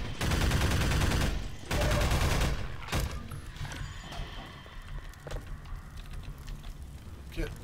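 Turrets in the video game Minerva fire rapid bursts of gunfire, loud and continuous at first, then breaking into scattered shots under a speaking voice.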